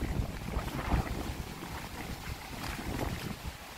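Gusting strong wind blasts steadily against the microphone near a fast river current outdoors, a loud, unbroken rushing roar with no voices.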